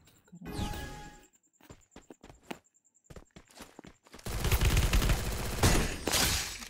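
Gunfire in the mobile shooting game Free Fire, with a scatter of sharp clicks and shots followed by a dense, loud burst of rapid automatic fire and game effects over the last few seconds.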